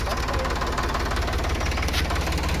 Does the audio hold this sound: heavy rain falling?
no